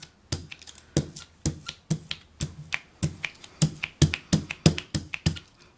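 An ink roller rolls back and forth over an inked surface, giving a quick run of sharp, sticky tacky clicks and peels in an uneven rhythm, close and clear, with no voices.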